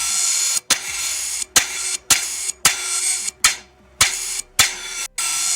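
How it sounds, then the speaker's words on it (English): AI-generated audio of a hammer smacking a piece of metal: a series of sharp, loud percussive strikes at a fairly regular rhythm, each cutting through a bright constant background hiss, with no voices. "Every time he was smacking the hammer, it was making a sound."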